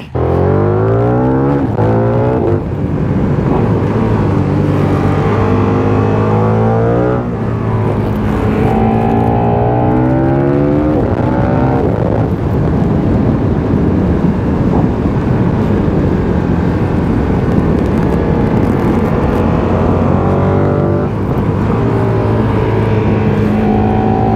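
A KTM 1390 Super Duke R engine revs hard while riding, rising and falling through gears with a deep, loud drone under steady wind rush.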